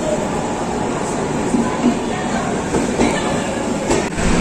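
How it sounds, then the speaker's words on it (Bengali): A train arriving at a station on the route from Kalyani toward Jalpaiguri, a loud, continuous close rumble of rolling cars with faint wheel clatter and no talk. "12:29 আমাদের ট্রেন চলে এসছে।"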